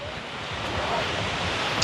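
Waterfall at Tad Pak Chong in the cool highlands of Paksong, Laos, giving a steady, dense roar of falling water that fills the whole short stretch with no break and no voices.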